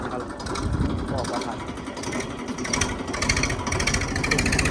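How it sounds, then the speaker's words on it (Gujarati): A tractor engine rumbles low and steady throughout as it drives off toward the farm field, with people talking over it. "ટ્રેક્ટર જાય છે હવે વાડીએ ભાઈ"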